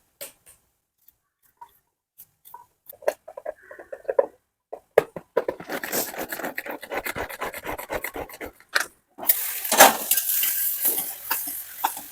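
Onions fry in a pan with scattered pops and crackles that build into dense, steady sizzling, briefly breaking off before resuming loudly near the end.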